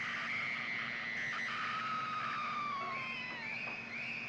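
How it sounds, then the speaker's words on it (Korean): A woman screams in a horror film scene on discovering a skeleton, her high, wavering cry sustained for several seconds over a steady background hum, loud and close. "그래서 비명을 질렀더니"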